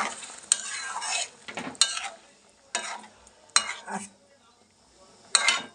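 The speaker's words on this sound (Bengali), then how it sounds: "অল্প করে জল দিয়ে দিলাম, এখন একটু নাড়া দিয়ে দেব" Bengali tangra fish curry being stirred in a pan just after water is added, heard as bursts of scraping and metal clinks from the spoon, with quiet gaps and a soft sizzle between strokes.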